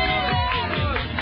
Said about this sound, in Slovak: tak ale dáme jeden aplauz